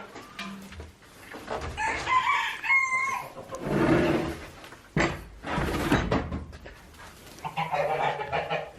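Domestic geese and other fowl kept in a backyard coop give off scattered honks, clucks and calls at close range, loud bursts mixed with quieter pauses and no talking.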